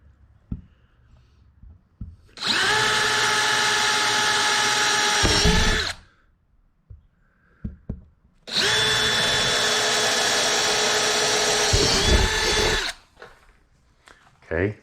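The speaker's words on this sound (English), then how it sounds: "now we'll roll the board around and we'll drill this way" A power drill drills into a board, whining steadily for about three seconds, stopping briefly, then drilling again for about four seconds, close and loud, with faint handling noises between.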